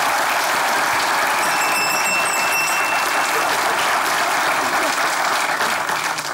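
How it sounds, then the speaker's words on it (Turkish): Loud, dense studio audience applause on a Turkish comedy show, sustained clapping from a large crowd with a brief faint electronic tone partway through, continuing evenly to the end. "Alkışlar."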